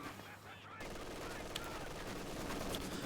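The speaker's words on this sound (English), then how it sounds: "MG42 on the South VP" An MG42 machine gun fires in a video game, a rapid burst of gunfire that starts abruptly after a quiet moment and keeps going at a steady level amid busy battle noise.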